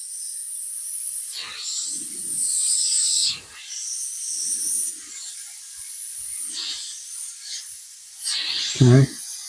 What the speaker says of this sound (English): I'm spraying it off into my little spray box